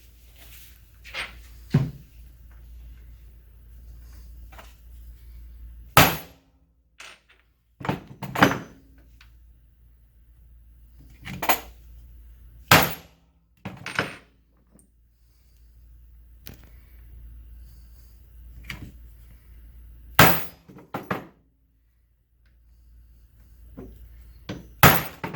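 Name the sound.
hammering a small metal stamp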